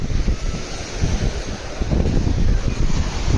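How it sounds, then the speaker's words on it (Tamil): Sea waves at Tiruchendur beach surge and wash in a continuous, loud roar, mixed with wind buffeting the microphone, and no voices are heard. "மக்களே திருச்செந்தூர் கடல் இதான் மக்களே"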